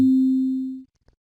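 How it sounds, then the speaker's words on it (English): A single plain Sonic Pi default synth beep sounds clean and loud, then fades smoothly and cuts off after under a second, followed by a faint click. "They're just going to sound like that traditional SonicPy beep."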